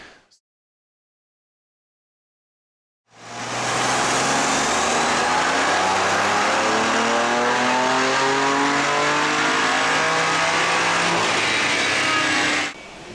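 2020 BMW M2 Competition with downpipes and a flex fuel tune revving on a dyno, a loud sustained full-throttle pull climbing steadily for about nine seconds after silence, with no talk.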